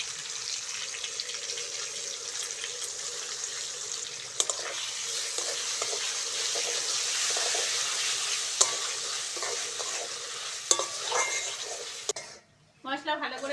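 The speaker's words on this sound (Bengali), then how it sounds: "মশলা ভালো করে কষে নিয়েছি" Spices with salt, turmeric, chili powder, cumin and ginger-garlic paste sautéing in a pan for a vegetable oats khichdi, a steady close sizzle with occasional stirring scrapes, broken near the end by a brief splash and a short voice.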